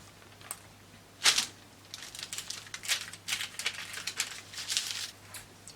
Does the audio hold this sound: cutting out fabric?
yes